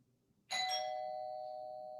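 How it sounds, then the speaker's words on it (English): A home doorbell sounds once, a bright electronic chime that strikes sharply and rings on with a long, slowly fading tone in an otherwise quiet room. "That's my doorbell."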